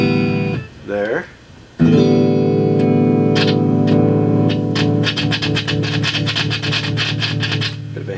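A Yamaha Pacifica PAC112CPJ electric guitar with humbucker pickups, played through an amp with audible hiss, opening with a few bent notes, then after a short break sustained strummed chords ringing out, near and loud.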